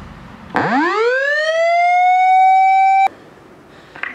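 A siren from imported vintage Japanese police car lights winds up from a low growl to a steady high wail, holds loud and alone for about two and a half seconds, then cuts off abruptly.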